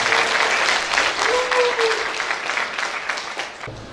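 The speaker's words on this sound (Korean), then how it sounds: "우리 홍 회장님한테 박수 한번 쳐주시죠." A Korean gathering's audience gives a round of applause for chairman Hong at a regional launch ceremony, sustained loud clapping that thins out near the end, with a voice faintly under it.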